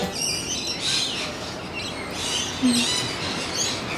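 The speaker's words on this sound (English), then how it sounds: "let's be quiet for a minute and see if you can hear the birds" Birds, including lorikeets, chirp and call intermittently in Australia against a steady outdoor wash of background noise, moderately distant, with no talking.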